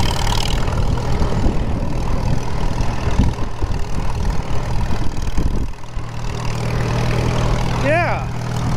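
Repowered 1939 Farmall H tractor runs in gear with a steady low engine drone that drops to a lighter idle partway through, while someone talks over it.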